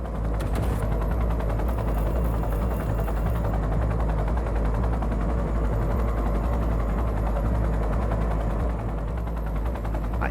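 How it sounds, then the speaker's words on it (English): A helicopter circles overhead in Cyberpunk 2077, its steady rotor drone running loud and continuous underneath dense gunfire and machine-gun bursts. "the helicopter just awkwardly circles around"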